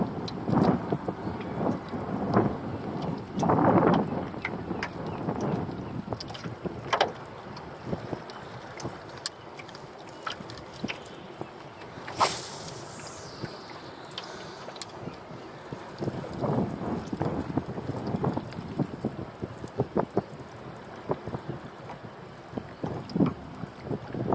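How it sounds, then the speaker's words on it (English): Ocean water sloshes around an aluminium dinghy while out fishing in changing weather, with a steady wash of wind and water, occasional knocks and splashes, and a brief whistling sweep midway. "sloshing of the ocean and all those things and the birds calling and that"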